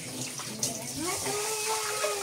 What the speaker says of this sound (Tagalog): Lagyan ng tubig doon. Lalagyan ng tubig. Galing sa mineral water.